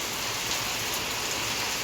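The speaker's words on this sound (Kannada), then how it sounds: "ಮಳೆ ಬರತೈತಿ ಇವಾಗ ಟೈಮಿಂಗು 5 ಗಂಟೆಗೆ ಮಳೆ ಸ್ಟಾರ್ಟ್ ಆಗಿದೆ ನಮ್ಮೂರಲ್ಲಿ" Steady rain pouring down, a dense, even hiss of drops hitting surfaces close by with no break.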